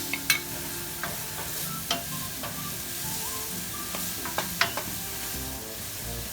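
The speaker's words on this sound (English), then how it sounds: "My pan is hot. Let's put the olive oil. Let's add the onion. Let's add the garlic." Chopped onion and garlic sizzling in hot olive oil in a pan, a steady crackling fry with occasional sharper pops and stirring clicks, close and alone with no voices.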